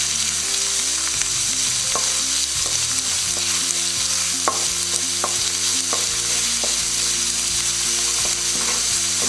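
Chopped onion, ginger and sliced green chilli sauté in hot oil in a pan for Kerala egg thoran, a continuous close sizzle broken by frequent scrapes and clinks of a stirring spoon, with no talk.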